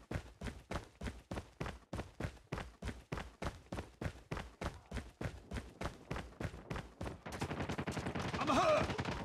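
Rapid bursts of automatic gunfire from Call of Duty Mobile, evenly spaced shots repeating for several seconds before dissolving into a denser, noisier clatter near the end.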